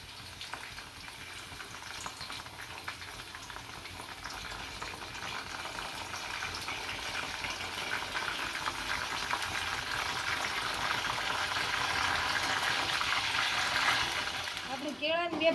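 Slices of raw banana fry in hot oil for wafers as salted water is poured in. The bubbling sizzle is steady at first, then swells louder and more crackling toward the end.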